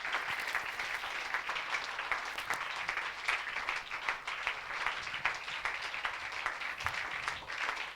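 A church congregation applauds steadily through a worship service, dense continuous clapping held at an even level from start to finish, with no clear voices rising above it.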